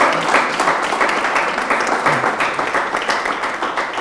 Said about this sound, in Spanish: Esas palmas, déselas a Él